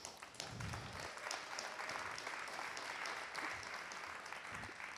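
Audience at the Fifth Avenue Committee gala in 2015 breaks into sustained, dense applause, steady clapping filling the room throughout with no pause.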